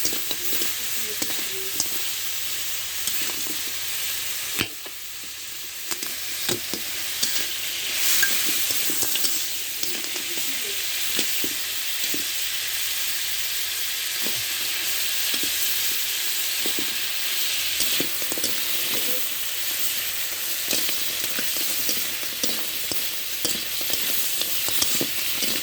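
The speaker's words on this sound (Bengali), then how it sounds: "লবণ আর হলুদ দিয়ে কাঁকড়াগুলো ভেজে নিলাম" Crabs frying in a pan with salt and turmeric, giving a loud continuous hiss and sizzle with scattered crackles and spatula knocks over a long stretch, no voices.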